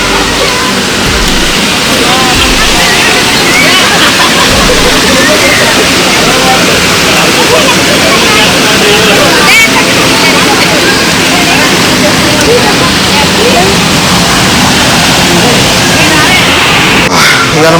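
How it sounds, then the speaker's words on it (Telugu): Water rushes at the Jalatharanguni waterfall in Meredumilli, near a river crossing, producing a loud, constant, close roar that fills the whole stretch without a break. "మనం ఇప్పుడు ఇది ఫస్ట్ రివర్ క్రాస్ అన్నట్టు, వాటర్ ఫాల్ క్రాసింగ్ ఇది అవతలకి వెళ్ళడానికి."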